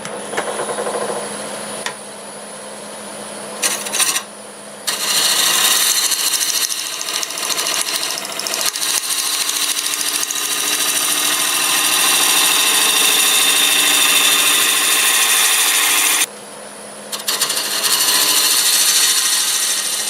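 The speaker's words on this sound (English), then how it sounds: "Go ahead and use the 1/2 inch bowl gouge." A lathe spins a cherry burl blank while a 1/2 inch bowl gouge cuts it, giving a steady loud hissing scrape with brief gaps where the tool lifts off, and no talk.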